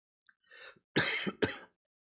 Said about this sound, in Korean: 힘 빠지고 맥 빠지니까 기침도 나오네.